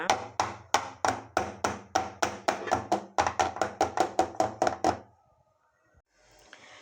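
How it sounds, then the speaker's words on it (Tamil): A cake tin of chocolate batter is rapped against a hard surface around twenty times in quick, even, close thumps with a short pause midway, then silence and faint rustling. "ஏன்னா உள்ளே பபுள்ஸ் எல்லாம் இருக்கும் அப்போ அந்த மாதிரி நமக்கு கரெக்டாக இதுவாக வரணுன்றதுக்காக இப்போ இந்த மாதிரி தட்டிக்கோங்க"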